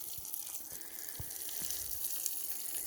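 Water pouring onto plants in a vegetable garden: a steady splashing, trickling wash that runs throughout, with scattered soft thuds and drips underneath.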